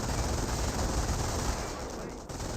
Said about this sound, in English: Put it mounted up to get the 50 cal firing.